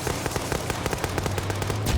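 Gunfire in the military shooter game Arma 3, rapid bursts of machine-gun shots crackling in an uneven rhythm, loud and steady with a low hum beneath and no talk.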